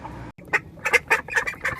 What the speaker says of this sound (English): my ducks are over there and they want out too